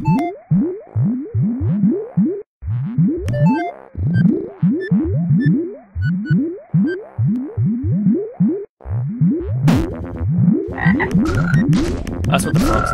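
Frogs croaking in a strange indie video game, a steady run of deep, bouncy croaks repeating closely one after another, loud and alone, with brighter chirps joining near the end.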